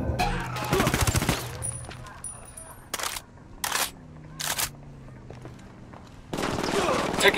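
Gunfire in the video game Ghost Recon Wildlands: bursts of automatic shooting open and close the stretch, with several short separate volleys between, mixed with in-game voice chatter.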